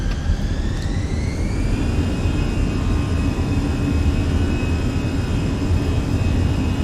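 Airbus A320 jet engines spool up to takeoff power in Microsoft Flight Simulator, a loud steady roar with a rising whine that levels off and holds, heard from the cockpit with no talking.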